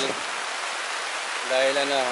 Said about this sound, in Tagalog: So mukhang hindi natitigil tong ulan na to.